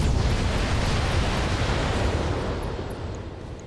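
Mech weapons fire and detonate in the BattleTech game, a loud, sustained roar of blasts and rumbling booms that fades slightly toward the end.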